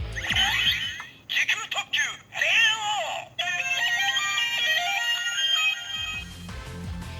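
Electronic voice callouts, chimes and tones from a white-and-red Kamen Rider Den-O Time Express Gashat toy, bright and loud, running in bursts and then a long melodic jingle, with a brief low thump at the end.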